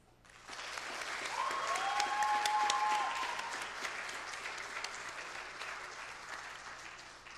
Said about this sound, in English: Please join me in a round of applause to commend their efforts.